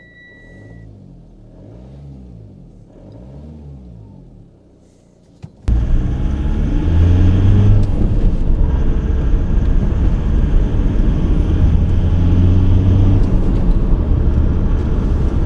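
A high-mileage Mitsubishi ASX 4x4 engine cranks and fires, then settles into a loud, steady drone and rumble as the SUV pulls away and drives, heard from inside the cabin.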